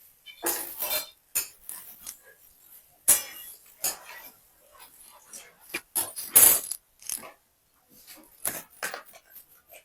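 Potatoes being sautéed and stirred in a pan, heard as irregular metallic scrapes and clinks of a utensil against the pan, in short bursts with quiet gaps between.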